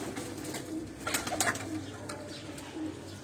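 Sialkoti pigeons at a breeder's loft give soft, low coos at moderate distance, over a steady background hum and a few faint chirps.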